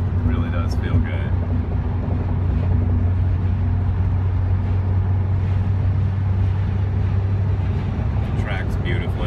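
A Porsche 944 cruising in fifth gear gives a steady, loud cabin drone of engine and road rumble, unbroken throughout, with occasional faint voices over it.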